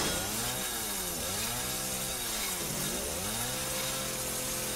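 A chainsaw in the video game Resident Evil 7 snarls at close range, its engine pitch rising and falling in repeated revving sweeps over a steady rough drone.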